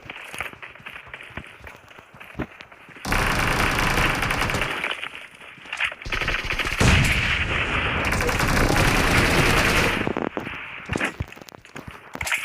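Gunfire in a video game arena comes in two long, loud bursts of rapid shots, separated by a brief lull and then cutting off as the ammunition runs out.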